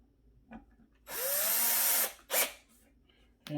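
A power drill drives a screw into a ClosetMaid closet organizer in one close, roughly one-second whir, followed by a short second burst and a few light knocks around it, with no talking.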